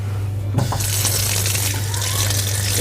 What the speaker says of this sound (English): Then I am ready to rinse my hands.